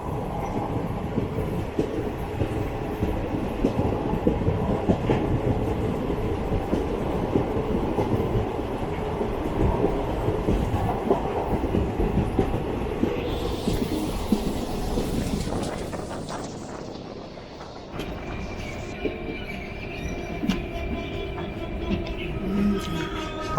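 The 16307 Alappuzha–Kannur Executive Express runs between Ernakulam and Shoranur, heard from inside as a continuous loud rumble with wheel clatter; the tone shifts abruptly partway through, then the steady running noise resumes. Nobody speaks.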